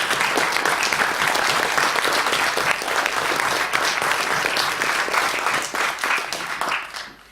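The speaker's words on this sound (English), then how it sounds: "perhaps we could give them a round of applause" Council members in a chamber give a sustained round of applause, dense and even clapping close by for about seven seconds before it tapers off quickly at the end.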